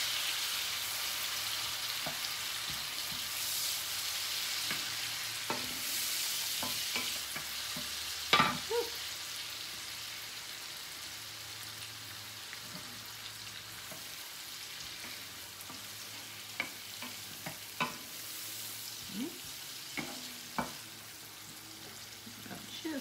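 Garlic and peppers saute in bacon fat in a pan, a soft continuous sizzle broken by occasional spoon taps and stirring scrapes, with no one talking.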